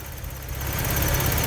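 A 1983 Porsche 944 engine just started and warming up with the heater open, a steady, loud idle hum that holds and grows slightly fuller throughout.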